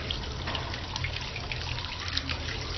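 Smooth, laminar stream from a household tap runs steadily into a sink, a close, even trickling hiss with no breaks and no voices.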